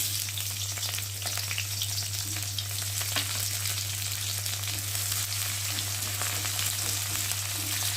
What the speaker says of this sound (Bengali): আর এখন পেঁয়াজগুলোকে দিয়ে ভালো করে ভেজে নেব